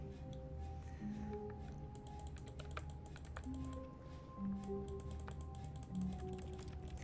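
Rapid computer keyboard typing plays in the video game The Stanley Parable, with a continuous stream of crisp key clicks in uneven bursts, close and clear over a low hum and a few soft tones, with no speech.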